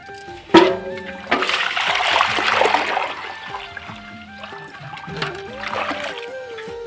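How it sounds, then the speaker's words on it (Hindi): Hot water splashes and trickles while dishes are washed by hand in a home kitchen on a cold winter day, with bursts of running water, clinks and scrubbing close by. "जल्दी जल्दी से बर्तन साफ़ कर लेती हूँ"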